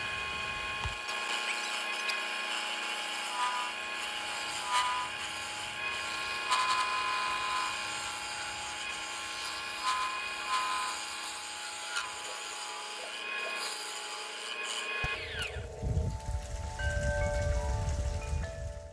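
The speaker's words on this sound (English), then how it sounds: "Here I'm switching over to the swan neck hollower." A steady scraping, grinding cut from a swan neck hollower into a spinning spalted sweetgum bowl continues for a long stretch, then the tone shifts near the end, loud and close.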